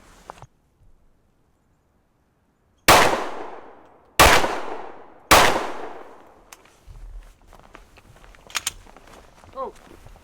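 Three loud, sharp shots from a Smith & Wesson M&P 2.0 Carry Comp pistol ring out about a second apart at a range, each followed by a ringing decay. Quieter clinks and faint voices follow.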